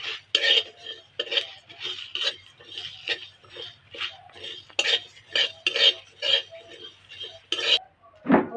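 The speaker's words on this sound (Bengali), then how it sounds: "নেড়ে চেড়ে ভেজে নেবো মশলাটা।" A utensil repeatedly scrapes and taps a pan while whole cumin, coriander seeds, bay leaf and dried chilli are dry-roasted together, making a steady rhythmic stirring with light clinks.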